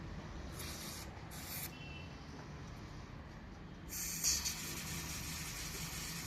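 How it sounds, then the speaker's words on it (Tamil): An oil spray jet from a Toyota Etios engine being tested, giving short bursts of hissing spray followed by a longer, louder sustained spray, with no talking. "இப்படி தான் ஆயில் ஸ்ப்ரே ஆகும்."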